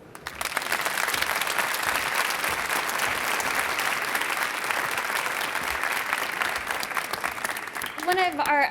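An audience at a Project Homeless Connect event applauds with dense, sustained clapping that swells quickly, then fades near the end as a voice begins to speak.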